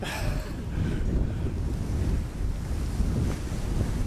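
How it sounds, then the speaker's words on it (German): Strong wind on the French coast at Biarritz buffets the microphone in a steady, rumbling roar, with gusts swelling and easing throughout and no voices. "Ganz schön windig!"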